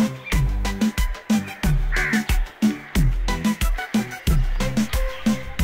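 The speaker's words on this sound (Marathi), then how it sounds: "सर्वीकडे म्हणजे पक्ष्यांचे खूप सारे आवाज एकदम छान" Crows in a garden caw loudly and close by in a fast, insistent series of harsh, evenly spaced calls that repeat without pause throughout.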